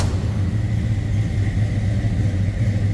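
A 1971 Plymouth Scamp's 360 V8, bored 40 over with J heads, idles with a steady low rumbling throb, close and fairly loud, with no voices over it.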